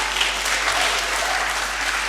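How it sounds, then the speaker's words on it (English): Applause fills a hall at a women political leaders summit: a large audience claps steadily and evenly, moderately loud, with no voices over it. "Let's clap with the energy it deserves."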